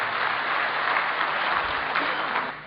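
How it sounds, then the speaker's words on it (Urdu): Audience applause greeting a guest at an Urdu mushaira poetry gathering in Qatar, a steady hall-filling patter of many hands clapping at moderate volume that tapers off at the end. "تالیوں کی گونج میں آپ سے بھی درخواست کرتے ہیں کہ ان کا استقبال کریں۔"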